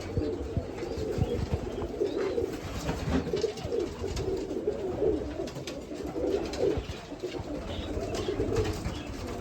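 Yellow domestic pigeons gathered in a loft, several birds cooing in overlapping throaty rolls close by, with occasional wing flutters and shuffling throughout.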